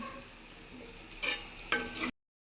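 Dried chili and tamarind frying and being stirred in a pan for a dried-fish curry with drumstick and raw mango, a steady low sizzle with two brief louder scraping bursts near the end before it cuts off.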